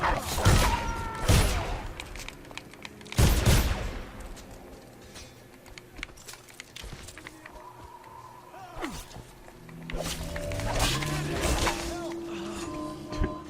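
Gunfire in the video game Dishonored on Kaldwin's Bridge, sharp loud bursts of shots at the start and again around three seconds, then scattered bangs and mechanical noises amid a voice speaking.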